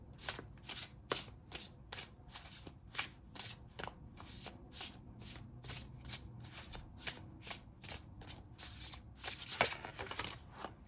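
Oracle cards being shuffled and drawn, a steady run of crisp riffling flicks and slaps repeating roughly every half second, close and fairly quiet with no talking.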